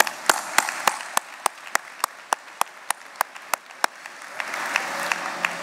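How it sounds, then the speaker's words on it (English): Applause at an annual meeting: one nearby person claps in a steady, evenly spaced rhythm, loud and distinct, over softer scattered clapping from a small audience that swells near the end. "Let's give them a round of applause as well."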